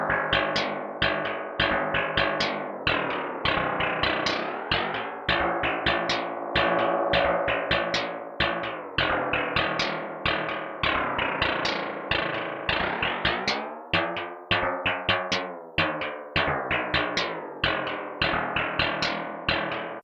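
A distorted synth plays rapid repeating notes with echoing tails, its tone sweeping open and closed as a filter follows each note's attack.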